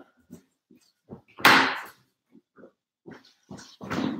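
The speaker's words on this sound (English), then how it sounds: "I'm literally just going to let my dog out." A dog let outside, with a few short growly, snorting vocal bursts and soft thumps, one louder broad burst near the middle and another toward the end, close by in a quiet room.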